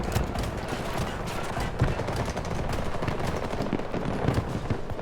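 Dense, continuous gunfire from a Battlefield 2042 match, rapid overlapping shots with close bursts and background battle noise filling the whole stretch without pause.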